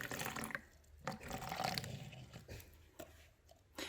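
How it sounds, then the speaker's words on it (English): Water poured from a container into several small cups for a paper-towel chromatography experiment, heard as a few short splashing pours close by, with no talk. "So we'll pour just a little bit in each cup."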